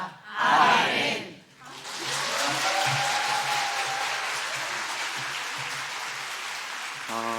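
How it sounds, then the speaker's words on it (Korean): A church congregation at a Wednesday worship service claps together, a short burst followed by a longer sustained round of applause at moderate level, with a voice briefly at the start. "우리 다시 한 번 더 박수로 좀 격려했으면 좋겠습니다"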